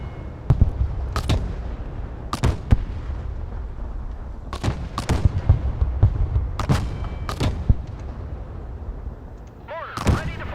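Artillery mortar fire in the video game Broken Arrow, with a series of loud, sharp booms at uneven intervals and a rumbling backdrop between shots, the last blast trailing into a longer roll.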